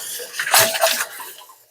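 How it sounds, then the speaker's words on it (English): A cloth rag is washed under running water, with splashing, sloshing bursts that swell and fade over under two seconds, close and fairly loud, with no talking. "I wash my rag"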